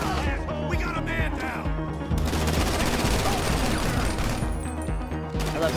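GTA 5 gunfire during a diamond heist, a loud chaotic burst of rapid shots and crashes overlapping in dense volleys, briefly under a voice.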